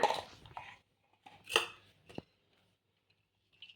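A knife chops coriander leaves finely on a board in a few sharp, separate cuts with quiet gaps between them, close and fairly soft.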